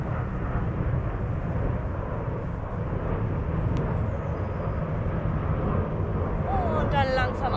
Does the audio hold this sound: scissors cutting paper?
no